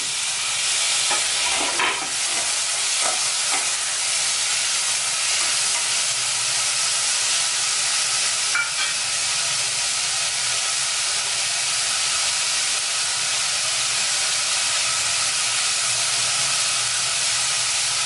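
Steady, loud sizzling and hissing of tomatoes and vegetables sautéing in a pan for Chettinad chutney, with occasional stirring scrapes, continuous throughout with no talking.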